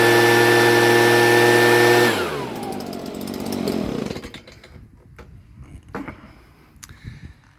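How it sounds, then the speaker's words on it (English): A leaf blower used to dry a washed motorcycle roars loudly at close range, then winds down and fades away, leaving scattered faint clatter. "Gonna fire up the leaf blower and dry the bike."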